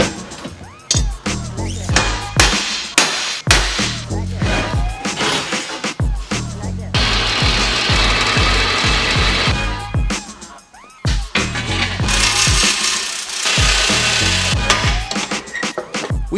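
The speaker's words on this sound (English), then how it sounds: "then I can trace and drill the holes" A steel winch plate for a Jeep offroad bumper is drilled with a power drill, a loud continuous grinding whine broken by sharp clanks and repeated knocks of metal work, close up.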